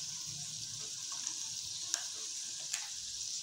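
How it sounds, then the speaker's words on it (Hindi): Ground spices (salt, red chili powder, turmeric) frying in hot oil in a pan for chicken and turnip curry, a steady close sizzle with a couple of faint clicks from stirring, no talking. "अब हम लोग मसाले को अच्छी तरह से भून लेते हैं"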